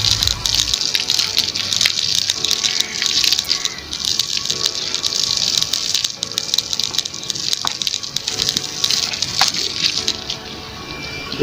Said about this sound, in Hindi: ये गंदी हो गई हैं इसलिए मैं नहला रहा हूँ।